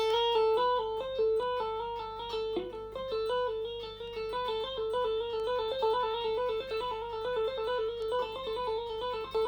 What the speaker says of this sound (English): you can do a hammer on and pull off on each finger